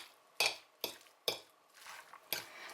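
Minced meat being mixed with salt and pepper for lazy belyashi, several distinct wet scraping stirs of a spoon in a bowl, close and steady in rhythm, with no talk.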